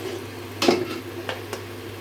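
Fish curry with turmeric being stirred in a pan, with a few soft scraping, clinking strokes of a utensil against metal over a quiet background, no talk.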